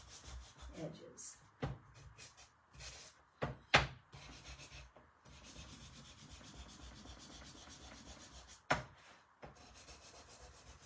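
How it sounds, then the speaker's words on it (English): Wooden blocks being sanded by hand, a rough scratchy rubbing that comes in uneven strokes with a few sharp knocks between them, close by and fairly quiet. "I want to sand my blocks a little bit."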